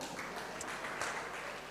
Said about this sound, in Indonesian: Luar biasa ya Ipo, tepuk tangan.